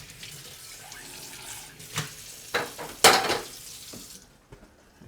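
Water running from a tap while a small bowl is rinsed out in a kitchen sink, splashing in uneven bursts with light clinks of dishware, close and fairly loud, ending quietly.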